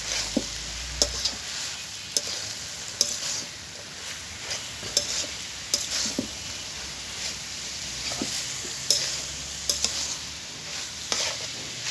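Onions frying in a pan while being stirred, a steady sizzle broken by repeated sharp scrapes and knocks of the spoon against the pan at irregular intervals.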